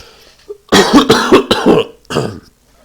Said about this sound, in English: if this cough keeps up